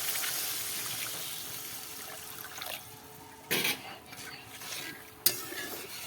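Water goes into a pan of spiced curry and gets stirred, giving a steady wet sizzling bed with a couple of brief splashy scrapes and a sharp clink near the end.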